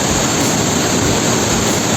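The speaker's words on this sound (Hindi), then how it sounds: "बहुत ही भारी बारिश के कारण बहुत ही पानी बह रहा है ऊपर से" Floodwater from a cloudburst comes pouring down from above beside a temple and a blocked road, a loud, continuous roar of rushing water close by that fills the whole moment.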